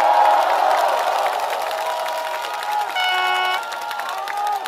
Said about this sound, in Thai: ใครที่สงสัยมันกับผมส่งเสียงโห่ร้องเสียงดัง